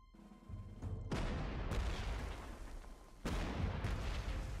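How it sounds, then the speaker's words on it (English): Artillery fire in Panzer Corps 2, two heavy booming blasts a couple of seconds apart, each with a sharp crack and a long rumbling tail, loud and close with no voices. "Artillery."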